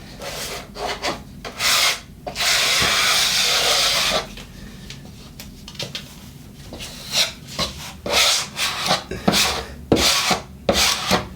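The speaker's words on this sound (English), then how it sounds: "get your knife and just press it down" Scraping and rubbing strokes of a filling knife pressing joint tape onto filler on a plasterboard ceiling, close and dry, in uneven bursts with one long sustained pass and several shorter drags.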